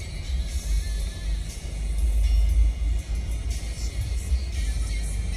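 Honda car engine idling with abnormal, shaky RPM, a loud low rumble that swells and dips unevenly, heard up close without talk.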